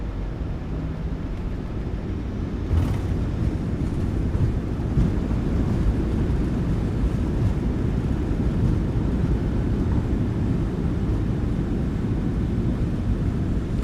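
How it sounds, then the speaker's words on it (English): Thrust reversers roaring on a PMDG 737-800 landing at Ketchikan in Microsoft Flight Simulator 2024, a steady, loud, broadband rumble of engine and wind noise holding for the whole stretch without speech. "Reversers are out. Decelerating."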